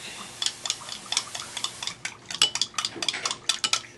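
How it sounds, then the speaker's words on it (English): A spoon stirs coconut milk into a homemade soap mixture in a container, quick irregular clinks and scrapes against the sides, close and alone. "And stir that up."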